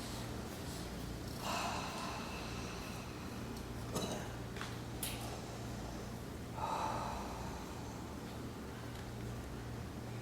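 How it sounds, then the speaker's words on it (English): Slow, deep breaths in and out, about three soft airy swells spaced a few seconds apart, heard over a quiet steady musical drone during a calm meditation. "Take a few deep breaths with me."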